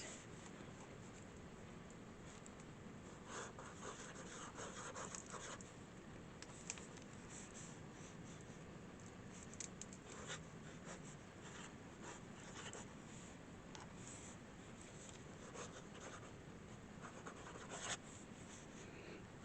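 A pen writes on paper: a faint, steady scratching and rubbing runs close to the mic with small taps, against a quiet background and with no talking.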